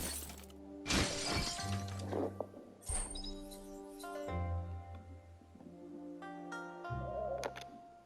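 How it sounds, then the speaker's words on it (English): A box being smashed in Biomutant: several sharp crashing, splintering breaks spaced a couple of seconds apart, set against sustained musical tones. "You shouldn't worry about smashing up the box."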